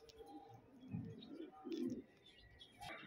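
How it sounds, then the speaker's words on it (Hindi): A male Teddy breed pigeon with yellow eyelids, in Lahore, gives a few soft, low, close coos in a quiet setting. "पीली पलकों का कबूतर है"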